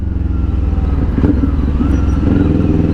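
A Kawasaki Ninja 400 fitted with a LeoVince LV-10 exhaust rides past close by, its steady, throaty engine drone loud and continuous with a pulsing low exhaust note and slight rise in revs, no voices over it.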